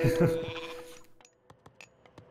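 Goats bleat in the Age of Mythology video game in a short run of wavering calls. Several sharp, brief clicks follow, and a commentator's voice can be heard at the start.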